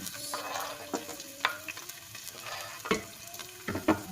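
Onions fry in a pan alongside garlic for a Filipino-style okra stew, giving a steady sizzle with occasional sharper crackles and stirring scrapes.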